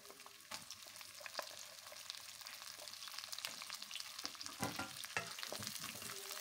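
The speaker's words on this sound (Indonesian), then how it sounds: "Tumis wortel sampai layu dan bawang putihnya makin mateng" Sliced carrots and garlic stir-fry in a pan, a continuous close sizzle broken by repeated scraping and clattering strokes of the spatula, with no voices.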